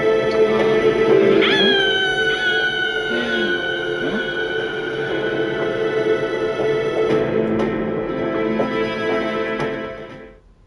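A dog whimpers and yips in Bleach Rebirth of Souls, rising whines over a steady bed of game music, continuing for several seconds before fading out at the end.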